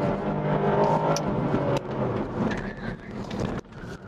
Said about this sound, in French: Ouais, là ça patine même en 2, pourtant la route est sèche.